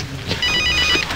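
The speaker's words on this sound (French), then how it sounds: "Eh, Robert, ton portable?" A mobile phone ringtone sounds briefly at close range, a bright electronic ring that repeats over a low background hum.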